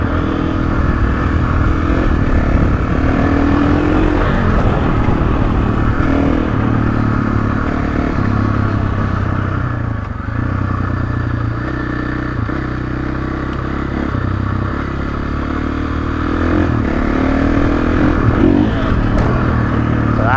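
A motorcycle on a ride over rough ground with jumps, the engine droning steadily with shifting pitch and rattling clatter from the bike and handlebar mount, loud and close for the whole stretch.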